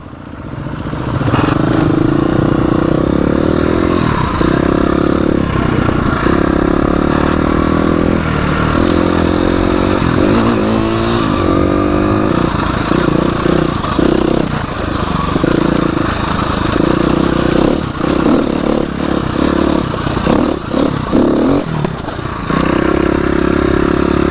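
Dual sport motorcycles riding on a trail: a loud, continuous engine drone close by, with the revs rising and falling as the bikes move over rough ground and a few clattering knocks.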